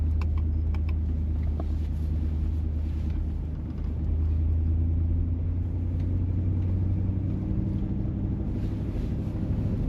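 A truck climbs a steep, rain-soaked hill in slippery-surface mode, its steady low engine rumble droning loud and close for the whole stretch with wind and road noise over it and no talking.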